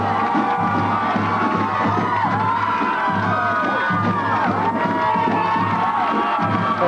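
A large crowd cheers and whoops nonstop at a 1993 rally welcoming the University of Maine hockey team home, loud and dense with high shouts rising above the roar, and a voice briefly speaking over it.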